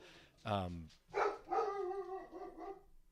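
A dog gives one loud bark early on, then a few softer whimpering yelps follow close by, with a voice running over part of it.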